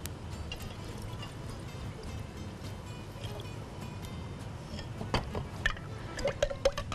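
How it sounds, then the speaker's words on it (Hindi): Water poured and dripping into a cooking pot in a kitchen while making sugar syrup, soft trickling and splashing with a few sharper drips near the end, fairly quiet and without speech. "पानी डालेंगे,"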